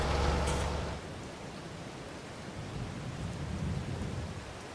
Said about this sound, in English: we had a little spot of rain just suddenly happen